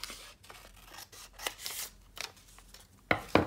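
Scissors snip and rustle through scrap paper at a craft table, a series of quiet crisp cuts with two sharper, louder snips near the end, no voices.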